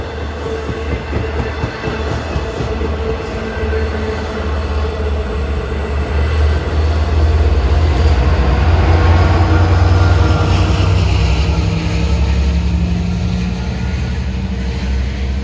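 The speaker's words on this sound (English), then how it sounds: "We've got Oyster Bay train to Jamaica, 509 coming in." Long Island Rail Road Oyster Bay train bound for Jamaica, number 509, runs through Mineola station on triple track without stopping, a loud continuous rumble with wheel clatter and a rising high whine, building as it passes.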